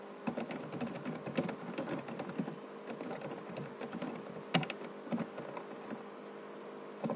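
Steady typing on a computer keyboard, with quick, close key clicks and occasional louder taps that continue throughout and are heard alone.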